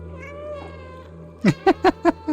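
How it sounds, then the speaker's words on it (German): In the PS5 video game Stray, a cat gives a quick run of five short meows in close succession over a soft, sustained game music tone. "Haha, ich kann miauen."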